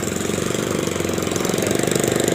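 A motorcycle engine idling close by, a steady rapid putter with even rhythmic pulses throughout.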